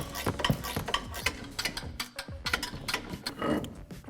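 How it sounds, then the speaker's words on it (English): Ratcheting 18mm wrench loosening strut nuts on a 2017-2019 Ford F-150 Raptor during a suspension lift install, a rapid series of close metallic clicks and clacks in bursts, fairly loud, with no talk. "We're going to be using an 18mm wrench to get these off."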